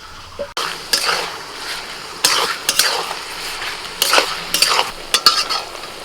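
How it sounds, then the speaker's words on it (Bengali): Half-cooked onions sizzle loudly in a pan while a metal spatula repeatedly scrapes and clinks against it in uneven bursts, close and clear. "পেঁয়াজ অর্ধেক ভাজা হয়ে গেছে"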